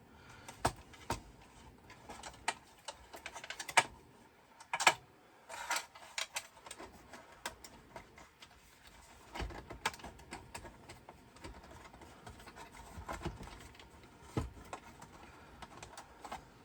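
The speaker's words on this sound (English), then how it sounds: "it's not great on the arrow keys, but the whole rest of the keyboard seems pretty good" Typing on the keyboard of a PowerMac ][+ built into an Apple II-style case, a steady run of close, crisp key clicks with short pauses, played alone without talk.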